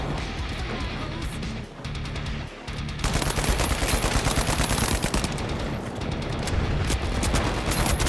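Rapid automatic gunfire fills a free-to-play first-person shooter, with dense sustained bursts that grow heavier partway through and run almost without pause.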